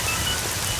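Steady rain falls and patters on surfaces, a dense even hiss close by with no voices.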